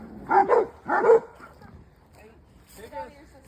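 Two dogs that dislike each other, Clark and another household dog, bark at each other: two quick, loud double barks close by, then a pause and a fainter, whimpering yip.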